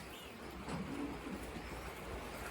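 A young racing pigeon, a cock on its third flight, gives soft, low cooing while held in the hand, faint and close against quiet background hiss.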